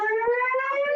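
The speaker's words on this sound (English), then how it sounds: "fire alarm." A fire alarm sounds during a fire drill, a loud, steady electronic tone with rising pitch filling the whole moment alone, briefly interrupted once.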